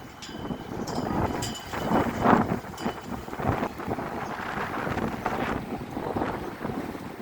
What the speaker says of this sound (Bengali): হাওয়া চলছে, অনেক হাওয়া